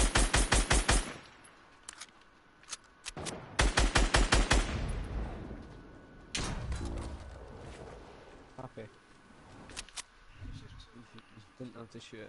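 Rapid automatic gunfire in the video game Fortnite, several loud bursts of fast shots in the first five seconds, then sparser shots and game noise while a player talks over it.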